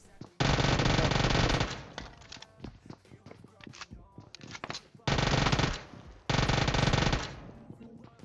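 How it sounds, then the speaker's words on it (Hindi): Uzi submachine gun in the mobile game PUBG Mobile firing three loud sustained full-auto bursts, each lasting about a second, with scattered single shots and clicks in between. "अब ऊजी गन बहुत खतरनाक है, लेकिन जब 25 गोली हो ना इसमें, बस यार कब कहां खत्म हो जाती है पता तक नहीं चलता इसमें"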